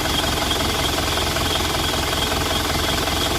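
An Isuzu Panther diesel engine runs at a raised, high idle with a dense, even rattling drone that holds steady and loud the whole time, close to the engine bay with no voices.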